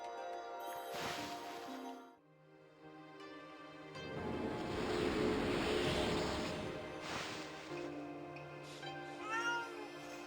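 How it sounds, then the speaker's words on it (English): Repeated cat meows from a character in the video game Okami, several distinct mewing calls spread over the clip, moderately loud over a soft game music background. "Stop meowing."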